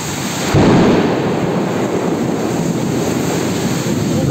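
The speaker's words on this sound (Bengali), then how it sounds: "প্রচণ্ড বৃষ্টি আর ঝড় হচ্ছে," A Kalbaishakhi storm in Bagerhat, with a loud, dense roar of heavy rain and gusting wind that swells suddenly and then holds steady, rumbling and unbroken with no voices.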